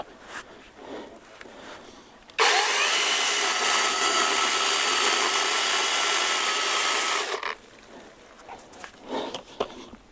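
A cordless power saw whines steadily through walnut wood for about five seconds, loud and close, between stretches of quieter handling noise.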